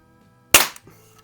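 A single sharp crack from a Crosman 760 air rifle firing, close and loud, followed by a short faint clatter as the shot lands.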